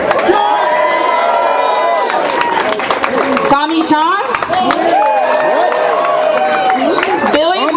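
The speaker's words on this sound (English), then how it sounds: "let's give a round of applause for The Alchemist" Crowd at Cypress Hill's Hollywood Walk of Fame star ceremony cheering and clapping, close and loud, under an announcer's amplified voice calling out names.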